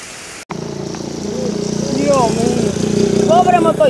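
Small motorcycle engine straining while crossing a flooded river, a steady buzzing drone that rises and falls, with people talking excitedly nearby.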